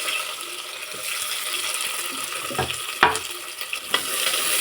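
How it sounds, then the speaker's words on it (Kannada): Chopped onion hitting hot oil with mustard seeds for sprouted-bean sambar, producing a steady close sizzle punctuated by a few sharp spoon clacks and stirring knocks. "ಕಟ್ ಮಾಡಿರೋಂಥ ಈರುಳ್ಳಿ ಹಾಕ್ತಾ ಇದ್ದೀನಿ"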